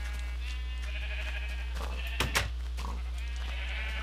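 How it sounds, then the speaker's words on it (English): Sheep bleating on a sheep farm in Minecraft Tekkit, a few short bleats midway over a steady low hum and faint background noise. "Here's our sheep farm."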